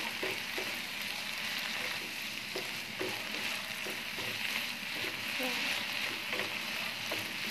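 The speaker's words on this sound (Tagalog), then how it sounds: "Wait ko lang mag-brown na brown na talaga yung pork bago ko ilagay yung vegetable." Pork browning in a pan for pinakbet, seasoned with crushed black pepper and bay leaf, gives a steady broadband sizzle throughout with faint spoon scrapes and a voice murmuring now and then underneath.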